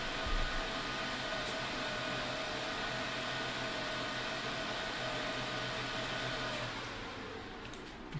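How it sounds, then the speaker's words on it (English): Server fans and cooling equipment in a data center produce a loud, steady, broadband whoosh with a constant low hum underneath that eases slightly near the end, and no one talks. "Because that is the sound of data centers."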